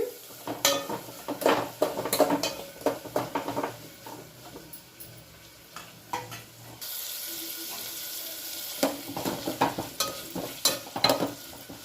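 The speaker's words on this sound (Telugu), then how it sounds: "ఉల్లిపాయ మునక్కాయ ముక్కలు కూడా వేసానండి ఇవి రెండు కొంచెం సేపు వేగనిద్దాము సిమ్లో పెట్టి" Onion and drumstick pieces frying on low heat in a pan for a moong dal curry, with a steady background sizzle broken by repeated scraping stirs and a brief tap-like water rush partway through.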